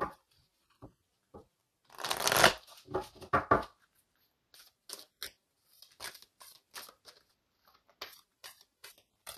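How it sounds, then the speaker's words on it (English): Oracle cards being shuffled by hand in a tarot reading: a dense riffling burst in the middle, then scattered soft taps and card flicks, fairly quiet with no talking. "let's go ahead and get an oracle card here to confirm this"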